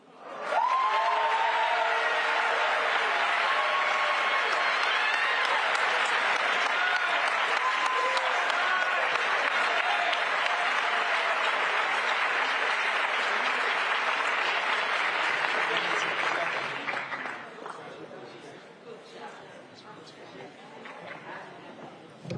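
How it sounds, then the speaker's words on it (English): A large high school audience breaks into loud, sustained clapping and some cheering for students, holding steady for many seconds before fading into scattered claps and murmuring. "Give them another round of applause."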